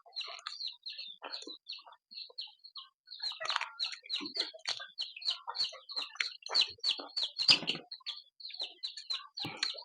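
Free-range village chickens clucking and chirping in bursts, several birds close by with irregular overlapping calls and quiet gaps between them.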